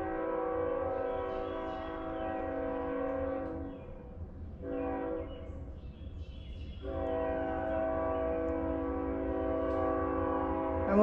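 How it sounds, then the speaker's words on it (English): A train horn blares in long sustained blasts over the low rumble of a passing train, with a brief break midway. "Sorry, there's a train."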